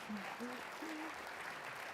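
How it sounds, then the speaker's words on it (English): An audience at a county event gives a brief round of applause, with a voice briefly speaking over the clapping. "you can applaud for Paul again if you want"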